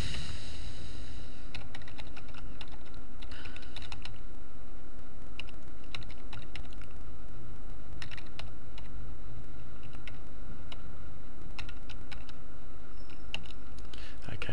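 Keys clatter on a computer keyboard as an HTML link tag is typed in. Irregular bursts of quick, close clicks run throughout over faint background noise.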